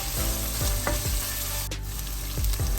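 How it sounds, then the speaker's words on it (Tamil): Cashews and chana dal sauté in hot oil for capsicum rice, a loud steady frying sizzle with several quick rhythmic scraping stirs, close and without talk. "இதோட கொஞ்சமா கஜுவும் சேர்த்துட்டு இது கொஞ்ச நேரம் வதங்கட்டும்"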